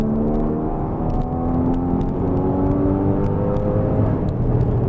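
Porsche Boxster Spyder fitted with an Akrapovic exhaust accelerating steadily to overtake, a continuous loud engine drone with rising harmonics held in one gear, heard from inside the car with road roar underneath.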